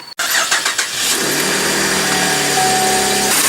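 A Cadillac CTS engine, just after an engine air filter change, catches and settles into a steady, even idle that runs on alone with no voices.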